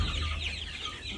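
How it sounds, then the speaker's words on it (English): Chickens and roosters cluck steadily in a farm coop, a continuous close, busy layer of fowl sounds with no talking over it. "Some roosters, some pretty roosters in here."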